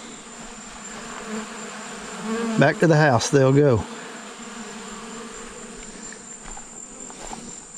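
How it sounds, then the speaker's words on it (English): A faint steady buzz of bees picking at honey supers hums underneath as someone speaks briefly in the middle. "Still got a few bees picking at these supers over here."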